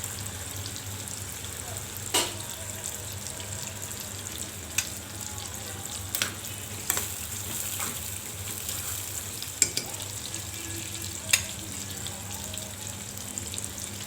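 Onions frying in hot oil for Egyptian koshari give a steady, moderate sizzle with occasional sharp clicks and pops, continuing without speech.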